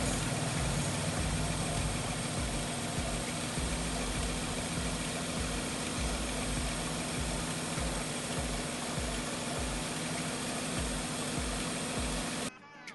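A Nissan Cefiro A32 2.0 automatic engine idles smoothly and steadily nearby, an even low rumble that cuts off abruptly at the end.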